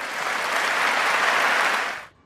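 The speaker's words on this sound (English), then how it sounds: "he received applause from the audience" Audience applause following a speech by Biden, a dense, steady wash of clapping at full strength for about two seconds before cutting off abruptly into near silence.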